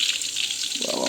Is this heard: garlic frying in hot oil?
yes